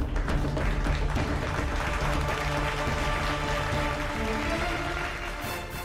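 US Congress members applauding Ukrainian president Zelensky in the chamber, a dense, loud, sustained roar of many hands clapping with a faint murmur of voices, steady throughout and easing slightly near the end.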